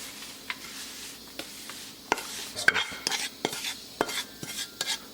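Roasted besan is scooped and spread across a metal thali, giving sharp scraping strokes and utensil clinks against the plate, irregular and close, alone without talk.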